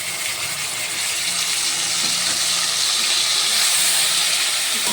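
Cashews, raisins and ginger paste masala sizzling in a frying pan, a loud steady hiss of hot oil running throughout with no speech.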